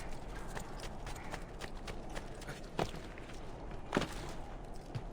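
Horse hooves clip-clopping in the video game Assassin's Creed II, a quick, steady run of soft hoofbeats over a constant background bed, with a few sharper knocks standing out.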